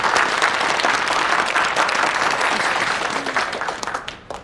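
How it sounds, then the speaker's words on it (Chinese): A room full of people applauds Chief Editor Xiao at a gathering, with dense, steady clapping at close range that runs for several seconds and then thins out and fades at the end. "掌声鼓励一下"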